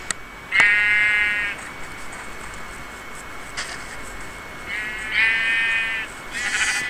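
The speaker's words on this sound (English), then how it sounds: "Stand still, you sheep." Sheep in the Minecraft video game bleat in short synthetic bursts, one near the start and a couple more toward the end, fairly loud over a quiet hiss with no talking.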